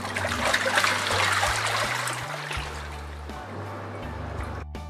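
A top-load washing machine agitates clothes in a tub of water, giving a steady churning slosh and trickle with a low rhythmic motor hum that shifts in pitch as the drum turns.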